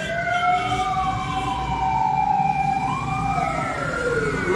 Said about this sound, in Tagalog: Mga nasanay na sa tunog ng bumbero.